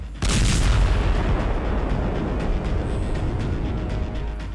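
Israeli missile strike exploding in Lebanon in daylight, a heavy boom that opens abruptly then rolls on as a loud, sustained low rumble, dominating throughout with no voices.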